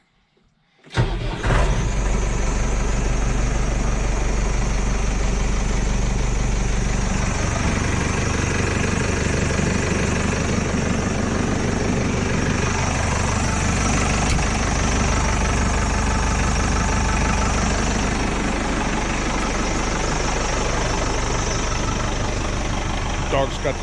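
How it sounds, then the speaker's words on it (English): Scooter engine starts up and then idles steadily while warming up, a loud, close, continuous low rumble that runs throughout with faint voices underneath. "get scooter started."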